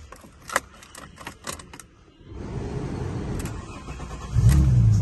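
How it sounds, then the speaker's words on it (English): A 2000 Alfa Romeo GTV starts up: a few sharp key-and-switch clicks, then the engine cranks and catches into a steady running rumble that swells louder near the end. "I'll just start it up for you so you can hear it run."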